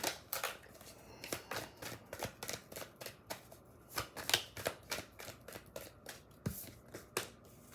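Tarot cards are shuffled and handled close by, a run of soft papery flicks and riffles in an uneven rhythm, fairly quiet, with no one speaking over them.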